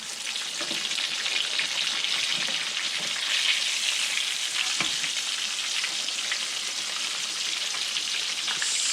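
Pork chops fry crisply in hot oil with a steady, dense sizzle and crackle that holds throughout, a few sharper pops breaking through, close and fairly loud with no voices.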